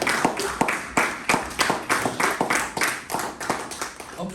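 A church congregation claps their hands in a steady, lively rhythm as an offering of applause, with many hands sounding together at close range and no talking.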